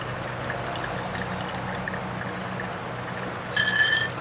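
Liquid is poured to rinse filter papers from gold recovery of computer pins, a steady close trickle with a brief louder splash near the end, no talking.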